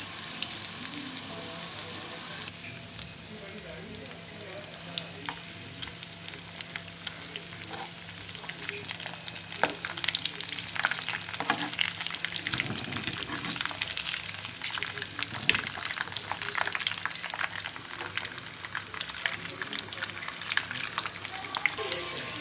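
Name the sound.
chicken cutlets frying in oil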